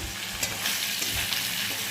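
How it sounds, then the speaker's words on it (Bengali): Prawns fry in hot oil, producing a steady bright sizzle with a few soft stirring clicks, close and continuous throughout the short stretch. "চিংড়ি মাছ ভাজা এ কটা ভাজলেই হয়ে যাবে।"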